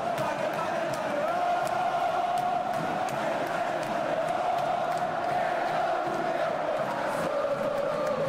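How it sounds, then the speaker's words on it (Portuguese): A stadium crowd cheers in PES 2016 before a Wii United versus Flamengo match, a continuous distant roar of voices with steady chanting and no clear peaks. "E a torcida rubro-negra aí, ó, presente"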